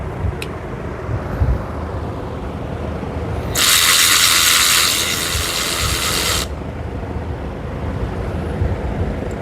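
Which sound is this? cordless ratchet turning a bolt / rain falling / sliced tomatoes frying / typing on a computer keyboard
cordless ratchet turning a bolt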